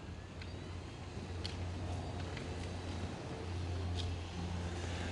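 Permobil M3 power wheelchair with anterior tilt driving outdoors and heading onto grass, a steady low motor hum with faint rolling noise running evenly throughout, no voices.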